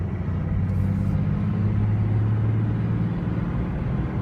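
2003 Dodge Ram one-ton diesel pickup with a manual transmission, idling smoothly with a steady low rumble and droning hum, close and continuous with no speech over it.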